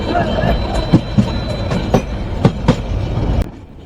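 The Saikat Express runs between Chattogram and Cox's Bazar with a close, steady rumble, punctuated by sharp rhythmic wheel clacks over rail joints, then cuts off abruptly near the end.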